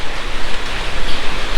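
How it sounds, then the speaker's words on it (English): Heavy rain falls steadily in an even, loud broadband wash with no breaks, heard up close and alone. "Now it sounds like it's raining hard, but I'm not feeling it."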